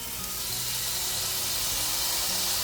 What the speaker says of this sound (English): I want you to hear this sear up whenever I put it on here.